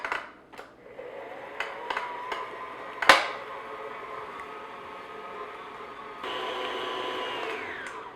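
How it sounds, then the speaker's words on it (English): Electric mixer on medium speed beating cream cheese for cheesecake squares, a steady whirring hum after a few clicks and a sharp clack, rising to a slightly louder, brighter whine near the end. "So I'm going to mix this on medium speed just until the cream cheese gets nice and smooth and everything gets mixed together."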